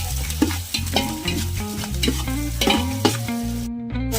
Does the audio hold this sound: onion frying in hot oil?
yes